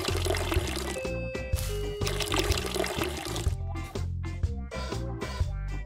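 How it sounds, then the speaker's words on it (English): In the video game Weed Shop 2, a watering can pours onto a cannabis plant as a running, splashing water sound, layered under looping rhythmic game music. "Ghost Train Haze plant needs to be watered. Water."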